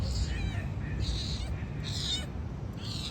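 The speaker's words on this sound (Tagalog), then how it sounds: "There's a wild cat here." A wild cat on a Philippine island gives several short, fairly faint meows over a steady background hum.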